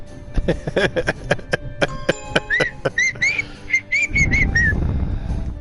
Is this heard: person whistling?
yes